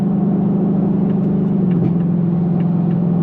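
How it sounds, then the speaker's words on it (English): Steady low road noise heard inside a 2025 Ford Mustang GT V8 while cruising, a constant rumbling drone with a faint engine hum and no talking. "There is a little bit of road noise, but this is a performance car"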